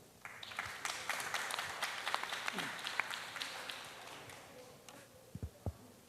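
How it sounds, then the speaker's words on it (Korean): Scattered applause rises from an audience at a civic culture camp event, moderate and fairly distant, thinning out toward the end with a few isolated sounds. "그럼 박수로 한번 청해 듣겠습니다"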